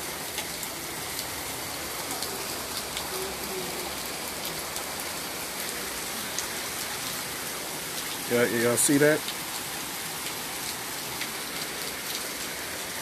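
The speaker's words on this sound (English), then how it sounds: "Yes, it's some hard rain," Hard rain pours steadily on a rainy day, an even rushing hiss of drops on surfaces throughout, with someone briefly speaking close by partway through.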